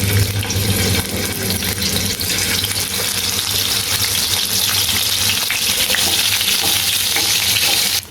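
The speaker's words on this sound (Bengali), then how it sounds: "মাছগুলো আমি খুব ভালোভাবে ভেজে নিয়েছি" Pieces of rohu fish frying in hot oil in a wok, a loud, steady sizzle with crackling spatter running continuously, no voices.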